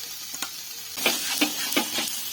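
Egg chop filling with chopped coriander being stirred in a sizzling pan, several distinct scraping strokes of a spatula over a steady frying hiss.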